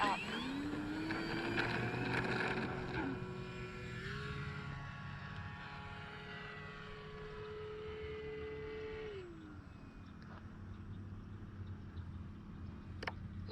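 An RC Cessna 182 model airplane's motor whines at high pitch during a flight over grass, rising, holding a steady tone, then dropping as the throttle changes, moderately distant with faint background noise.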